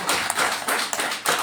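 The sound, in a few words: congregation applause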